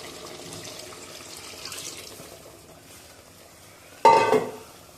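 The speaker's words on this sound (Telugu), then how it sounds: "ఇంకో గ్లాస్ వాటర్ పోసుకొని దీంట్లో పోసుకోవాలి" A quiet kitchen hum gives way to a short, loud splash of a glass of water poured into a bowl of chicken curry near the end.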